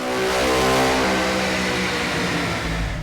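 A 2014 Mustang GT revving hard on a dyno roller, loud and close, its engine note holding steady and climbing through a sustained pull with no talking over it.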